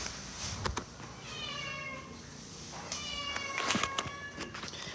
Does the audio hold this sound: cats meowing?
yes